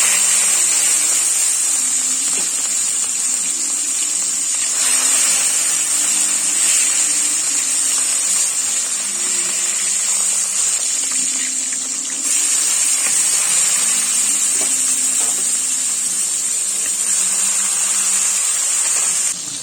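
A fish head coated in salt and turmeric fries in mustard oil in a kadai, giving a loud, steady hiss of sizzling that swells and eases slightly, with no voices.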